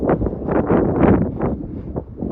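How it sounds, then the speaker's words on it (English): Low, rumbling wind buffets the microphone in uneven gusts during an outdoor walk, loud and close throughout, with no other clear sound. "If you hear the wind, I apologize, it's a little windy."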